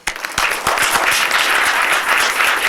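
Audience applause welcoming a keynote speaker at an AI event at the Gate Institute in Sofia, a dense, continuous wash of many hands clapping, loud and sustained throughout.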